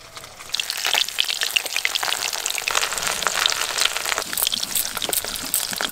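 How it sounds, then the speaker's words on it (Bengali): Pond fish frying in hot oil, a dense continuous crackling sizzle with irregular pops and spits, fairly close and steady throughout with no voices. "তেল তো ভালোই চিৎকার চলো। বাবা একদিন মাছ ভাজতে হচ্ছে।"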